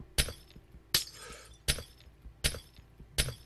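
Glass breaking in the block-building survival game TerraFirmaCraft, five sharp shattering crashes spaced evenly about once every three quarters of a second, each with a bright tinkling tail, close and alone.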